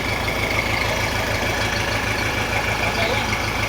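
A New Holland TC48R tractor engine fitted with a TD06 turbo idles in a steady, deep, throbbing rumble with an even rapid pulse and a faint turbo whine, close and loud throughout.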